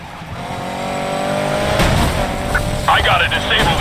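A car engine roars during a police chase in a video game, rising in pitch and loudness, with tire noise and voices over the engine toward the end.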